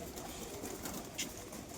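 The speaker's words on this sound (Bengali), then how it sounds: "প্রচুর পায়রা আছে।" Pigeons in a loft coo softly in a brief, faint snatch amid low background murmur.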